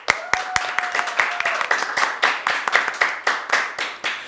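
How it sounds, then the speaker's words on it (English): A small group claps for guest Karla Salazar at a podcast taping, with quick, fairly even claps close to the mic. A voice briefly calls out near the start. "Can we give a round of applause for Karla?"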